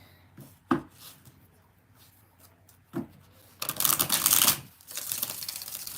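Tarot cards are shuffled close by, first with a few sharp taps and riffles, then with a longer burst of dense shuffling that fades into a lower rustle.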